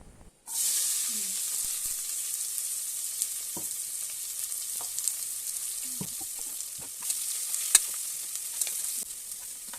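Onions frying in oil for country chicken biryani, a sudden loud sizzle as they hit the pan, then a steady hiss with scattered stirring knocks.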